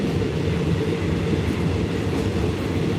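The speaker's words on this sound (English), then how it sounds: "It's a train ride." Steady rumble of a passenger train on the line to Kanchanaburi, Thailand, with a continuous low rolling roar and faint wheel clatter from inside the carriage, loud and unbroken throughout.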